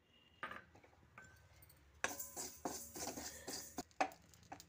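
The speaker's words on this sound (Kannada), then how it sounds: "100 ಗ್ರಾಮ್ ಇವಾಗ ಸಾಸಿವೆನ ಹುರಿದು ಇಟ್ಕೊತಾ ಇದ್ದೀನಿ" Mustard seeds roasting in a dry pan for raw mango pickle, giving quiet scattered ticks at first and then busier crackling, popping and pan scraping close by, with no talking.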